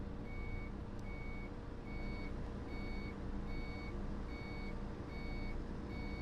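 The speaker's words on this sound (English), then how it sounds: "See what I mean about the beeping of the indicators? I'm not a fan of the beeping sound." Iveco interurban bus indicators beep in the OMSI 2 driving simulator, a regular series of short electronic tones repeating about every second over a continuous low diesel engine rumble, with no talking.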